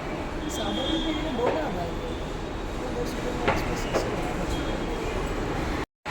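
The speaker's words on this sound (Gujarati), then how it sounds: "આવ્યું આપણે પેલું અંડરગ્રાઉન્ડવાળું મેટ્રો સ્ટેશન" Steady, loud rumbling ambience fills an underground metro station in Ahmedabad, with a few sharp clicks and knocks rising above the continuous noise before a brief dropout near the end.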